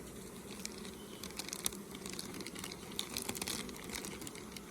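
A dense, steady buzz of many honeybees around a hive, swarming close by, with faint crinkly rustles scattered through it.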